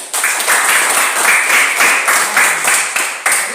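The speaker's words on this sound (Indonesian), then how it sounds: "Kita beri aplaus dulu untuk yang menjawab." Steady clapping from a classroom of students applauding a classmate who answered a question, dense and lively for a few seconds, with brief surges as it carries on.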